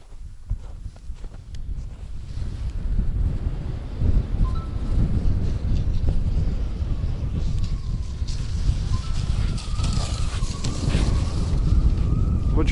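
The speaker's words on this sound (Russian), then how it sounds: "Страшный ветер, снег." Strong, gusty wind buffets the microphone on a snowy frozen lake during winter fishing, a loud, continuous roaring rumble with irregular surges and crackling bursts throughout, no voices.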